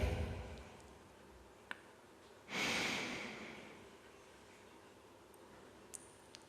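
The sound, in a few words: taking a deep breath and holding it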